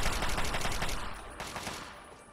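Gunfire in the video game Fallout 3: dense, rapid bursts of automatic shots crackling close and loud, easing off slightly midway, then resuming with another flurry that trails away.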